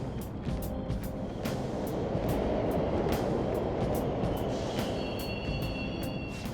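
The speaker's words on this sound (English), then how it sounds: "trains are totally running!" Subway trains rumble and rattle steadily through a game's underground tunnels, a continuous low roar with periodic clacks and a brief high squeal near the end, with no voices over it.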